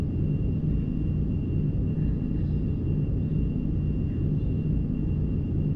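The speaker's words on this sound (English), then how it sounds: "Ooh, thunder." A low, continuous thunder rumble on a stormy day around St. Louis, distant and steady throughout, with no voices.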